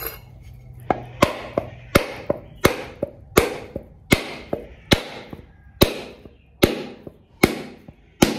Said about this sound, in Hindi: अब इसको बीच से ना दराती से ऐसे मारना है जो अलग हो जाएगा।